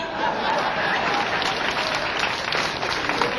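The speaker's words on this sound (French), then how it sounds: "applaudissez encore Madame la Première Dame" Audience applause at an official launch ceremony for Abidjan, perle des lumières, a steady, full wash of clapping from a large crowd that stays even throughout.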